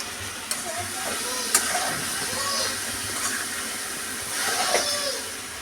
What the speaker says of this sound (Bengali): এবার দিয়ে দেবো আলুগুলো, এবার দিয়ে দেবো বাঁধাকপিটা